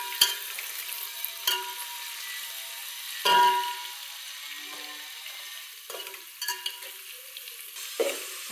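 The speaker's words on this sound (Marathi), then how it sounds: "कच्चा मसाला डायरेक्ट तेलात भाजायचंय बघा." Raw masala with onion and garam masala frying in hot oil in a home kitchen for chana biryani, a steady close sizzle broken by several scrapes and stirring knocks of a spoon against the pan.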